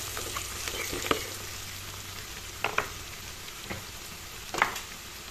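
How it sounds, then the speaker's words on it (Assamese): Turmeric powder, chilli powder and fresh chilli are stirred in a frying pan for a fish curry, a low steady sizzle broken by a few scattered scraping knocks of the spoon. "যেটো কেঁচা জলকীয়া দিছো এইখিনি অলপ লৰাই ল'ম"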